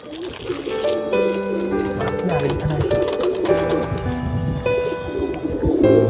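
Pigeons, Indian pigeons among them, peck at scattered biscuits while soft cooing and rattling bird calls sound close by, under continuous talk from a person nearby.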